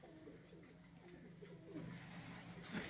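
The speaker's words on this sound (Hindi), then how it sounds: "ये आपके सामने हैं जी उनके कबूतर।" Pigeons of a home-bred breed coo softly in their cages, with low repeated calls and faint chirps, fairly quiet and close, with no talk over them.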